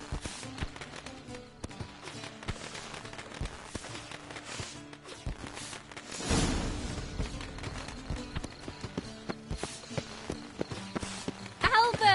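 Horse hooves clip-clopping in The Witcher 3: Wild Hunt, a steady run of sharp hoof taps on hard ground near at hand, with a louder rush partway through.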